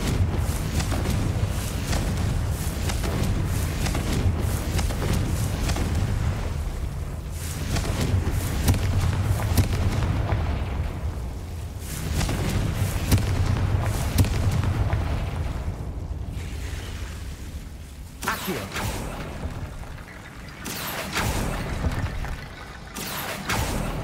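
Confringo fire-spell blasts in the Hogwarts Legacy video game, a sustained roar of booming explosions and crackling bursts that swells and fades for over twenty seconds with no talking.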